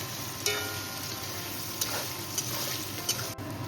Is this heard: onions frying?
yes